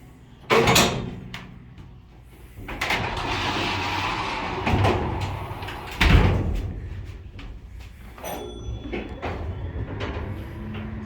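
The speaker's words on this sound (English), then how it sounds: "The door gets heavier when you go down because the weights are up here" A vintage Otis traction freight elevator door in a former Sears department store in Carlsbad, worked by hand: sharp clanks and bangs, a long grinding slide of the heavy counterweighted door and further thuds and rattles, with no speech.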